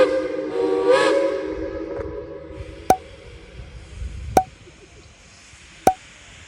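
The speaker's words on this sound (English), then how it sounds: "Shay number 2 departs with a Bald Knob excursion." Shay number 2, a geared steam locomotive in West Virginia, pulls away on an excursion train: a long steam whistle blast at the start, then three sharp, loud exhaust chuffs spaced about a second and a half apart over a low rumble.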